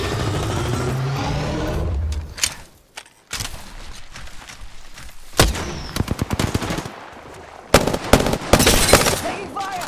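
Gunfire in an Apex Legends match: bursts of sharp shots and rapid automatic fire, mixed with in-game voice lines and scattered clatter, loud and irregular.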